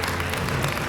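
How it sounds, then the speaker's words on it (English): Dense, steady applause from an awards-ceremony audience cheering the first-prize winners, a continuous wash of many hands filling the whole moment at close range. "Let's give a huge applause to Mr. Isaac Anyoga and Petra Soage, the winners in this very important category."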